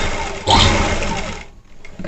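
A sewing machine stitching the collar of a high-neck blouse, a close continuous mechanical whir that surges loudly, runs on, then slows and stops near the end.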